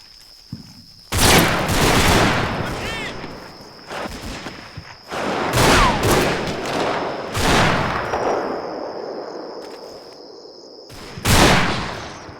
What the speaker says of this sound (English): But then enemy fire opens up on them